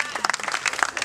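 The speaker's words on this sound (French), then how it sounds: "applaudissez pour les Béninois, ils sont exceptionnels" Brief burst of audience clapping at a live comedy show, a quick scatter of hand claps under some crowd noise.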